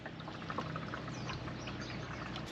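Engine oil drains from a 2022 or later GR86 or BRZ during an oil change, a faint, steady trickle of pouring liquid with light splashing drips, alone and without talk.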